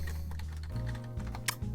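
Rapid clicking of computer keyboard keys, a steady run of light taps with a couple of sharper strokes near the end, close and alone.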